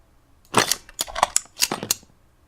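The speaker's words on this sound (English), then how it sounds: "Light reload." A light gun reload foley effect from Krotos Weaponiser plays alone: a quick, close series of sharp metallic clicks and clacks lasting about a second and a half.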